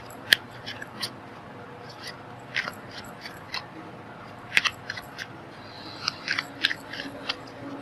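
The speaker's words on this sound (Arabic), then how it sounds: "انا طبعا بقلب الورق كتير بس عشان يبقى ايه مظبوط" Tarot cards shuffled and flipped by hand produce a string of sharp, crisp snaps and flicks at irregular intervals over a soft, steady background, close and fairly quiet.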